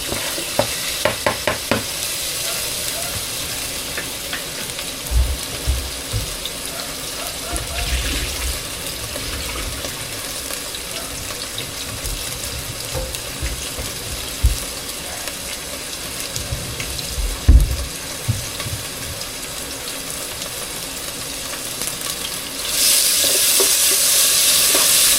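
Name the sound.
sautéing bagoong in a pan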